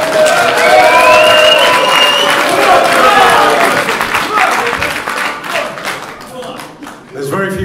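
Applause fills the room at a Klitschko vs Fury boxing press conference, a dense, loud crowd clapping with some cheering that gradually thins out and fades, with voices talking over it.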